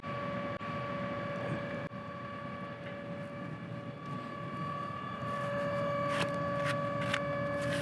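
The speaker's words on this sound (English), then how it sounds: "We can then go and press datum, and the machine itself will start to move and find its zero location." Torchmate 4000 plasma table gantry motors driving the torch to find its zero location: a steady mechanical whine with high tonal lines over a constant broadband hum, swelling slightly louder near the end, no talking.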